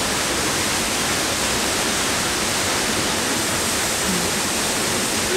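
Waterfall at a campsite rushing in a constant, dense hiss like white noise, loud and steady with no breaks and no voices.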